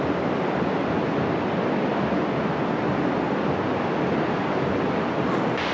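Steady, loud wash of ocean surf beside a pier at Rosarito, a dense unbroken roar with no distinct wave breaks and no voices.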